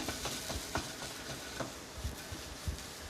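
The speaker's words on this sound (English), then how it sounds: "Very quick saute, hyogo mushrooms." Hyogo mushrooms sauté in a pan with a quiet, steady sizzle broken by soft stirring scrapes and light taps.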